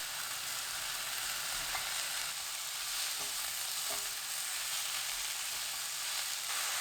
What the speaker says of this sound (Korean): 마타리 버섯, 당근 넣고 1분 30초 볶아주세요.